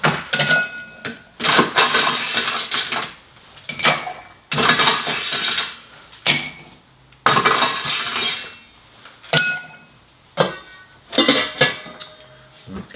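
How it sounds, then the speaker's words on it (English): Bar spoon stirring a White Negroni made with Suze over ice in a mixing glass, giving repeated bursts of clinking and rattling ice against glass, close and fairly loud, with brief pauses between rounds. "Let's give this a little stir."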